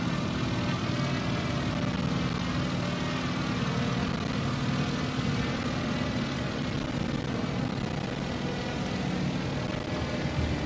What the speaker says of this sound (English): There's something about the sound of radial engines.